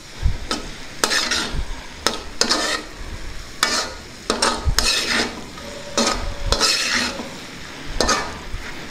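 Cabbage curry with masala powder is stirred in a frying pan, a spoon scraping and clanking against the metal in regular strokes over a soft sizzle, close and clear.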